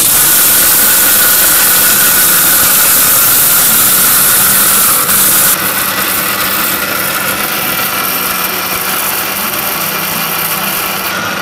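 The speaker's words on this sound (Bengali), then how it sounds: "আর বেসন তৈরি করবো এবার 850 ওয়াট ব্লেন্ডারে।" An 850-watt Fuma blender grinding besan into powder roars loudly and steadily throughout, its pitch and texture shifting partway through as the load changes.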